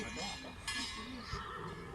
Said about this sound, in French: mais là, on entend le bruit des chevaux.